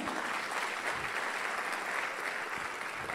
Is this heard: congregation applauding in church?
yes